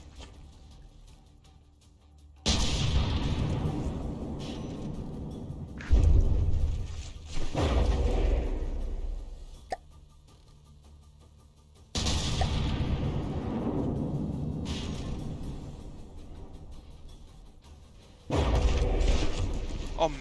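Heavy booms and blasts from battleship cannon fire in the video game From The Depths erupt in several bursts, each followed by a rolling rumble that fades, separated by quieter stretches.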